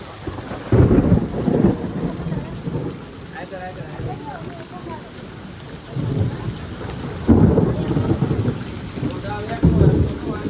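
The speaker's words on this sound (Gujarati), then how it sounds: "ફરી એક પાછો નવો કડાકો થાય સાંભળજો" Thunder rumbles repeatedly through a heavy rainstorm, with loud low booming bursts near the start, around the middle and toward the end over steady rain.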